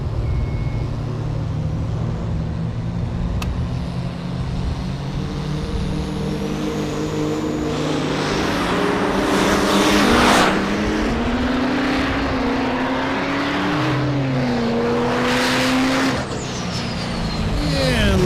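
Diesel pickup trucks, a 2006 GMC and a 2001 Chevy, drag racing at a desert diesel event, their engines roaring and rising in pitch through gear changes, with an announcer talking over them.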